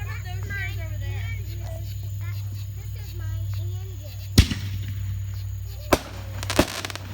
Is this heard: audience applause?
no